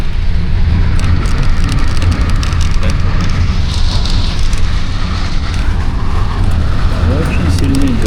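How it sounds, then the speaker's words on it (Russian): Very heavy rain pours down on a road in Yakutia during a summer cycling trip, a loud, unbroken roar with deep rumble from nearby traffic or wind mixed in, close and enveloping. "Очень сильный дождь."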